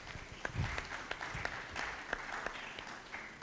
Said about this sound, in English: I want to hear a hand of applause on that.